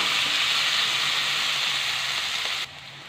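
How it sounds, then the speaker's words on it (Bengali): Potato and eggplant pieces fry in a pan with a steady, close hissing sizzle that drops abruptly quieter near the end. "টুকরো করা আলু, বেগুন বন্ধুরা সময় নিয়ে ভেজে নিতে হবে।"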